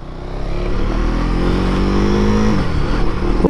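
A KTM Duke 390 motorcycle engine on a short ride of about 500 metres, loud and close, with a steady droning rev that climbs slightly before easing off.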